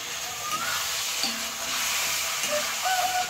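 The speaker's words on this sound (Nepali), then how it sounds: "यो मसालासँग एकदमै मज्जाले पहिला यसरी मिक्स गरेर केही बेरसम्म चाहिँ भुट्नुपर्ने हुन्छ" Potatoes fry and get stirred with masala for egg curry, a steady soft sizzle with scraping spoon strokes and small clinks, close and continuous without talk.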